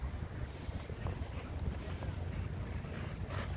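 Strong wind buffets the microphone outdoors near an aquarium, a continuous low roaring rumble, steady and loud throughout.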